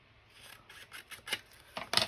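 Scissors trimming paper ephemera for a Halloween journal, a few close, soft snips and rasps that grow louder toward the end, with no speech.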